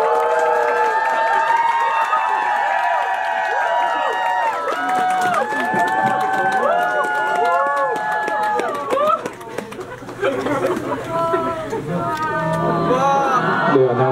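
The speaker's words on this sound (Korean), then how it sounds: "나오실 때 박수를 많이 쳐주시면 감사하겠습니다." Audience applauding and cheering as a guest walks on stage at a live event in Busan, a dense, loud, continuous wash of clapping and whoops with music and crowd chatter throughout.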